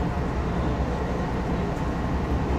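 Metro Expo Line light rail train running outbound from 7th/Metro Center, a steady low rumble of wheels and motors filling the interior throughout at constant loudness.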